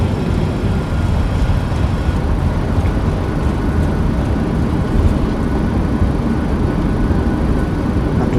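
Airliner thrust reversers deploying on landing in a flight simulator game give a loud, steady, full roar that holds without a break for the whole stretch, with no voices over it.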